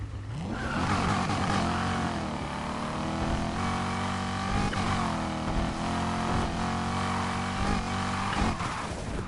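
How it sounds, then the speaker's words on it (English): A car engine in the video game Need for Speed Heat revs continuously and loudly while drifting, its pitch rising and dipping repeatedly as the throttle is worked, with a steady droning roar throughout. "there's a huge difference when this car is on gas or brake, drift style"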